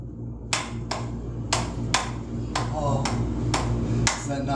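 A wooden Tok Sen massage hammer taps about nine times in an uneven rhythm, each knock sharp, dry and close, over a low hum with a faint voice underneath.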